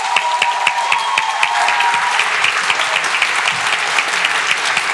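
Steady audience applause fills a Cambridge Union debating chamber as a first-year student speaker is introduced, dense and continuous with dozens of hands clapping at once, fairly close and loud throughout.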